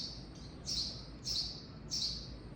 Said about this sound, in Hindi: देखो, ये चिड़िया है, स्पैरो, और उसके बच्चे बोल रहे हैं।